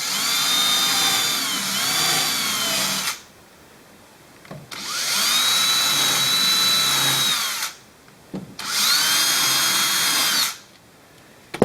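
A power drill bores guide holes into G10 handle material in three loud, steady whining bursts of a few seconds each, with short pauses between them.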